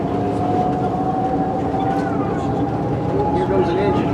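A locomotive engine rolls past at Bailey Yard, its steady rumble and a sustained tonal whine holding for the whole stretch, with people talking over it.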